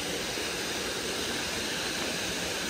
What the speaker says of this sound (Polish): O, to ten wodospad.